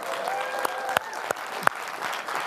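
Lunch audience clapping for the caterer at a talk, a steady wash of applause from a moderate-sized crowd with a few sharper individual claps standing out.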